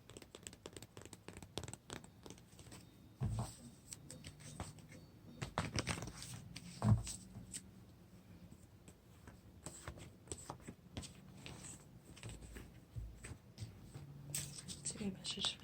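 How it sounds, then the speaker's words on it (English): Tarot cards are shuffled softly and closely, a quiet run of papery riffles and taps spread irregularly across the stretch, with faint low background tones. "Shuffle for pile number 2."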